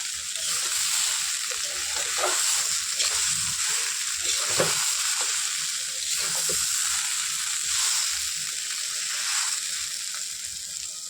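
Chana dal bori, small lentil dumplings, frying in a pan of oil for a vegetarian flat-bean curry, giving a steady, close, continuous sizzle with faint crackles throughout.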